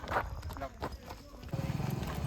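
A horse's hooves clop in a steady, close rhythm as it walks out at night, with voices talking over and around the footfalls.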